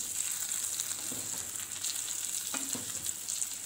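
Stuffed brinjal sizzles steadily in a pan, with a few soft scrapes of a spoon stirring it partway through; close, continuous frying hiss with no talking.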